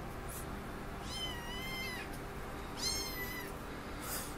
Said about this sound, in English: What should we name the kitty?